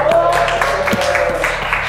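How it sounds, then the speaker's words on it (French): Audience applause during a French endurance challenge show, a steady wash of clapping with a sustained tone and music-like background underneath, fairly loud throughout. "On l'applaudit."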